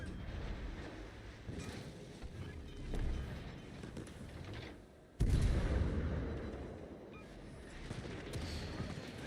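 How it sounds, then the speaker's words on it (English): Heavy battleship guns boom in a naval combat video game, a dense rumbling barrage with a sharp loud blast midway, continuing under low background noise and faint commentary. "Big hits from that battleship"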